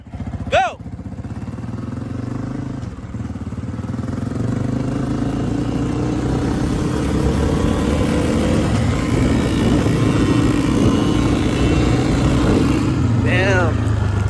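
Two kids' dirt bikes, a Yamaha PW50 and a Honda CRF50F, drag race, their small engines buzzing loud and steady as they rev up through the gears, with people talking and shouting nearby.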